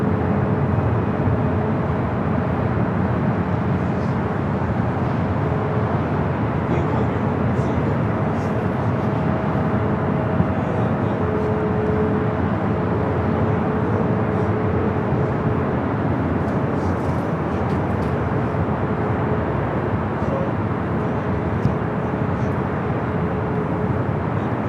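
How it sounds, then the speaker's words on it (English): An Air China airliner taking off from the north runway at LAX, a broad, steady roar of jet engines heard from a distance and sustained without break, with faint voices now and then. "Air China number 2 for takeoff here on the north."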